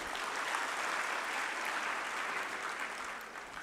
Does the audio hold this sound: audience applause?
yes